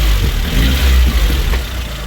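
VAZ 2109 car engine idling after a head gasket repair, a steady low rumble close by with slight unevenness and no voices.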